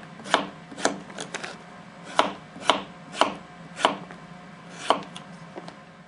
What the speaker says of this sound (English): I chose to stand the leather up in this test to show you how well this blade slices through materials.